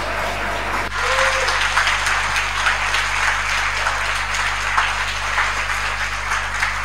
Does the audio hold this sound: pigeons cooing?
no